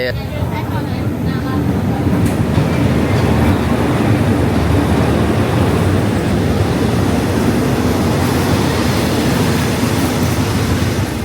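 A train rumbles past nearby in a continuous loud roar of wheels and rushing air, steady throughout.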